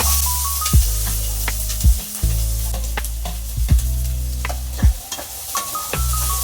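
Sliced onions and green chillies sizzle and crackle in hot oil in a kadai, a steady loud fry broken by several sharp clanks of a spatula stirring against the pan.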